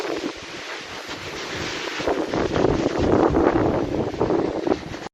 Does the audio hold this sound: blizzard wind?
yes